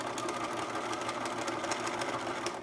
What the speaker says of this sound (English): I'm going to sew right over that roving